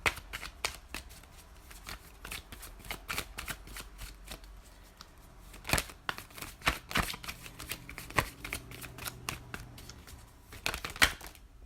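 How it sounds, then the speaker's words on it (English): Tarot cards are riffled and shuffled repeatedly, producing rapid papery flutters and snaps in quick bursts, close up, with no talking. "these were already pre-shuffled off camera, but if I have to shuffle them again"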